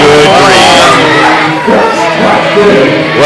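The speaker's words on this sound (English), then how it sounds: "You can hear the crowd, and here he is." Wrestling arena crowd cheering and shouting as a competitor enters a multi-man match, a loud, continuous roar of many voices with rising swells, heard close and filling the whole stretch.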